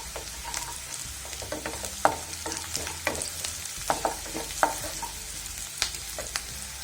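Boiled salted potatoes sauté in a pan for a Tamil potato pepper fry, a close, fairly quiet sizzle with repeated clinks and scrapes of a spatula against the pan, irregular stirring strokes throughout, no talking.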